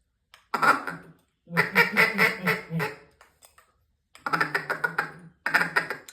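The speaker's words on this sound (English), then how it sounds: "And those are really short little quacks." A duck call blown in four quick bursts, each a rapid string of short, clipped quacks, close and fairly loud with brief pauses between bursts.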